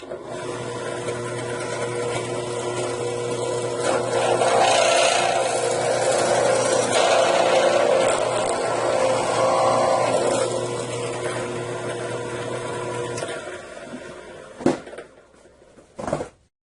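A CNC router drills the first centre hole in wood, a sustained whirring cut with a steady motor drone for about thirteen seconds that then winds down to a few clunks.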